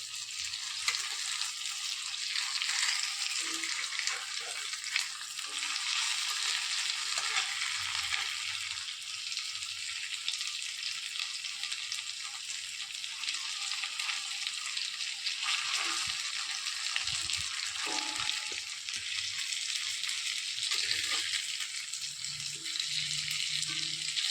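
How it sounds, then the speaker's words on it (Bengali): Masoor dal fritters fry steadily in hot oil, a continuous bubbling sizzle held at an even level throughout, with faint occasional clinks and no talking. "এখন 5 মিনিট সময় ভালো করে ভাজা হলে"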